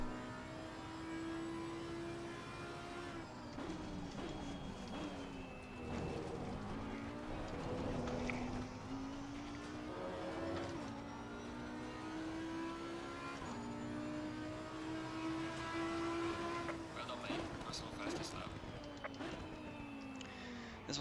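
An Audi R8 GT3 race car lapping a circuit in the Assetto Corsa Competizione racing game screams through the gears with a continuous, steady engine roar that rises and dips with upshifts and braking.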